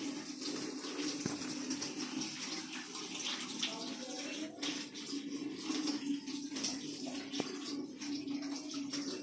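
Running tap water splashes steadily over items being rinsed clean, a continuous close gush with small clatters, fairly quiet and without clear speech.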